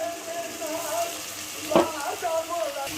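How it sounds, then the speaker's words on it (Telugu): Tomato, coconut and masala paste fries in a pan, a steady soft sizzle with occasional stirring scrapes. It is fairly faint and close, with a brief louder clatter partway through. "దీంట్లో వాటర్ అంతా ఇనిగిపోయేలాగా ఫ్రై చేసుకోవాలి"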